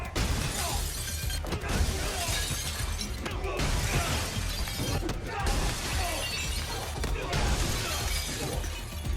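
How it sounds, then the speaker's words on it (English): Glass shatters repeatedly during a John Wick fight scene, with dense, continuous crashing and smashing that stays loud throughout, broken by a few brief dips between bursts. "they then use him to break almost every single piece of glass on the whole floor"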